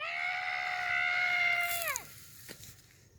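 A fox screaming at night gives a single drawn-out, harmonic wailing cry that holds steady and then bends downward and breaks off, followed by faint rustling, fairly quiet and heard alone.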